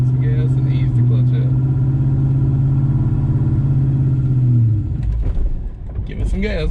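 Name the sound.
Ford Mustang Mach 1 engine revving as it pulls away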